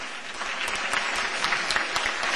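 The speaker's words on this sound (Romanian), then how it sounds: "Și asta merită și mai multe aplauze din partea dumneavoastră, dragi spectatori" Loud, dense audience applause at a graduation performance show, continuous clapping filling the room with no voices standing out.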